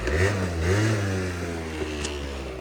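A Honda Dio AF-34 scooter engine, carburetor freshly cleaned, revs up and settles, its buzzing pitch rising then dropping back toward idle, close and alone.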